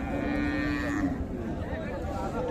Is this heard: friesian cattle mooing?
yes